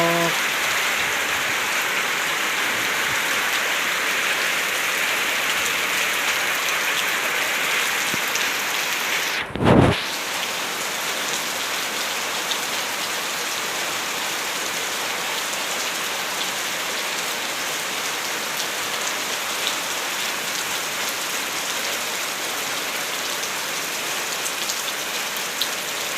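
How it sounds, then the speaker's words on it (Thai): Steady, heavy rain pours down for the whole stretch, a dense hiss of drops on surfaces, with one brief louder thump partway through. "ฝนตก"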